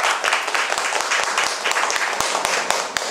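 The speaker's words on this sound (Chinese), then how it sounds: "所以听到这里的话，应该要给我们一个掌声" An audience applauds at a Kaohsiung talk event, with a dense patter of many hands clapping steadily at moderate loudness and a few sharper individual claps standing out.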